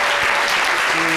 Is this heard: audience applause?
yes